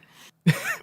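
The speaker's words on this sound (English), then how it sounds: "No, I coughed and then I answered your question." A single short, fairly quiet cough from a podcast host in a home recording setting, with a brief throat sound and a short pause before it.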